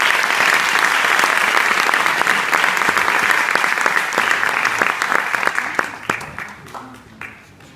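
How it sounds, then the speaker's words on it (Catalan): Loud, dense audience applause after a stage performance, sustained for several seconds before gradually thinning into scattered claps as it fades. "un fort aplaudiment"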